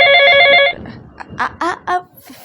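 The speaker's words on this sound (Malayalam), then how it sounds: "ഫോൺ അടിക്കുന്നു" A telephone bell rings in one steady burst, then stops, followed by a few short voice sounds.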